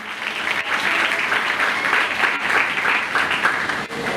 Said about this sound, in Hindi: यीशु के जलाल के लिए जोरदार ताली दें।